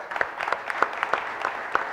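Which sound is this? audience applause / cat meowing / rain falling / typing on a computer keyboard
audience applause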